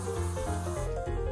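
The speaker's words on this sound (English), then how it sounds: "I'm gonna spray my hands with cooking spray" A short burst of cooking spray hisses onto hands, a close, steady aerosol hiss lasting about a second before cutting off, with no talk.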